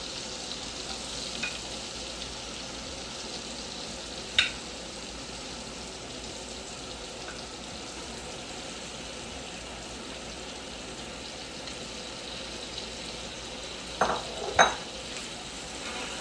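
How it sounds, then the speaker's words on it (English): Paneer pieces fry in warm butter with a little oil, a soft, steady sizzle with a few faint clinks of a utensil against the pan. "So as the butter is nice and warm, we are going to put the paneer pieces in it."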